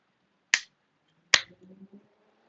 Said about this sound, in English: Clap your hands right after I clap mine.